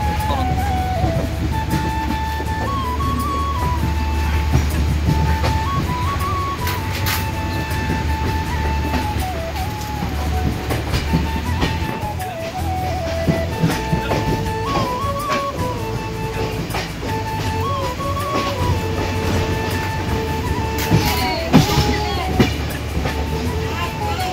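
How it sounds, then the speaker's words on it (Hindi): A long-distance train pulls out of Bandra station in Mumbai bound for Jammu Tawi, a steady loud rumble with rhythmic clicking of wheels and a horn-like tone rising and falling, heard from inside the coach. "आपली ट्रेन निघालेली बँड्रा स्टेशनवरनं"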